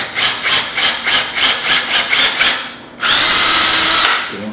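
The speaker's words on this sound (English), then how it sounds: "I'm careful to drill into the shelf created by the rabbit." A power drill drives a screw into the rabbet shelf of a wooden circular picture frame, pulsing in about nine quick bursts and then whirring steadily for a sustained run, loud and close.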